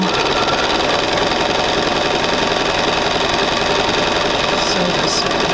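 A sewing machine stitches quilt pieces with a loud, fast, steady mechanical rattle that runs unbroken and close up.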